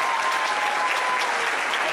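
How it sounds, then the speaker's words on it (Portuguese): Applause from an audience for teachers and helpers, a dense continuous wash of clapping, fairly loud and even for the whole stretch. "Uma grande salva de palmas também para eles, para os professores, para vocês, por favor"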